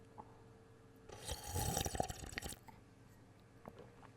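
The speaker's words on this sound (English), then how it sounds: "As for the sip, it's just water today," A drink of plain tap water is sipped close up, a wet slurp and swallow lasting about a second and a half, set off by quiet room tone before and after, with no speech.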